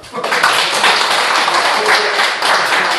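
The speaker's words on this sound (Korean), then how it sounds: "박수 한번 칩시다" Members at a Korean Buddhist order's general assembly clap together, a short loud burst of dense applause lasting a few seconds.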